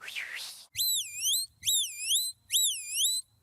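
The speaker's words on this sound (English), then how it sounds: "you replace them with whistles, which are much more concise" A shepherd's whistle command to a sheepdog at a sheepdog trial: three loud, shrill rising-and-falling whistle blasts in quick succession, following a brief first note.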